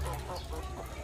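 Peking ducks eating restaurant leftovers give soft, overlapping clucking calls, faint and a little distant, with a low rumble underneath.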